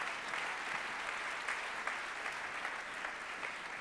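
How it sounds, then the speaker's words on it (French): Steady applause from an audience at a real estate awards ceremony, an even, continuous patter of many hands clapping at moderate distance, fairly quiet and unbroken from start to finish. "On les applaudit tous les 5"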